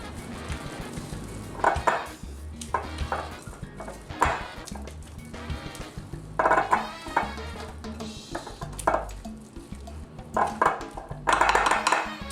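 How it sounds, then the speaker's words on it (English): Banana muffin batter is worked in a bowl with a spatula, giving repeated close scraping and thick squelching strokes in irregular bursts, moderately loud, with no talking. "Make sure everything is mixed nicely."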